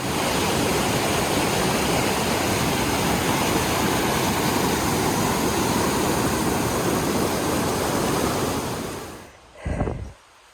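Rushing water from an Appalachian Trail stream crossing swollen to river size, a loud, steady broadband roar that continues alone before cutting off abruptly near the end, followed by a brief handling thump.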